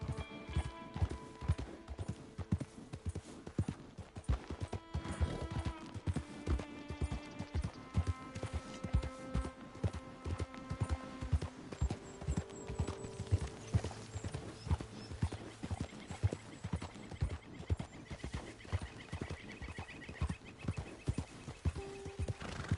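Steady clip-clopping hooves trotting throughout in Red Dead Redemption 2, with a bright musical backing and an occasional whinny, game-like and evenly paced.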